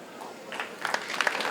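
Brief, fairly faint applause from an audience at a live comedy show in Asaba, Delta State, building from scattered claps into a fuller round of clapping.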